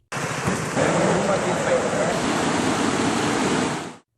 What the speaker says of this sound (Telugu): విశాఖ జిల్లా నర్సీపట్నం డివిజన్లో నదులు, వాగులు, గెడ్డలు పొంగుతున్నాయి.